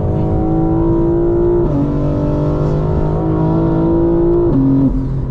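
A 2025 BMW M4 Competition revs hard while driving, a loud continuous engine roar with rising pitch and two audible gear shifts, heard from inside the car.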